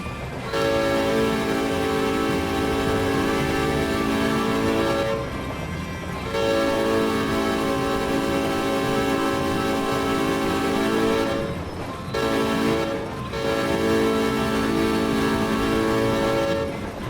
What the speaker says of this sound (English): we're just going to do a little bit of digital rail fanning here and watch the train ride off into the sunset